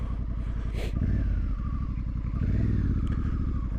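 A Honda Africa Twin motorcycle with a FUEL exhaust idles and blips close by, a loud, steady, deep throbbing pulse with brief revs lifting the tone.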